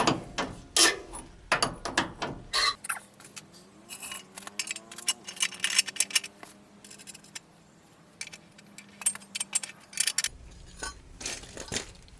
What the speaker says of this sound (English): Need to take the pitman arm off. Let's loosen it.